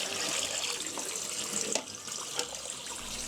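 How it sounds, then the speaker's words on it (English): Tap water runs steadily into a sink, rinsing freshly developed photographic film at home, a continuous close splashing hiss with a few brief louder splashes. "It is better to wash the film with running water for 10 to 12 minutes."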